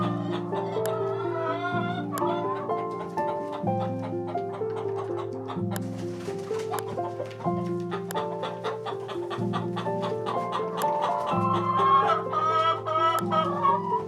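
Hens and a rooster cluck in the game The Girl of Glass: A Summer Bird's Tale, a busy run of quick clucks over steady, looping background music.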